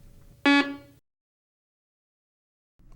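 A walk-through metal detector powering on gives one short, loud electronic beep, then cuts to near silence.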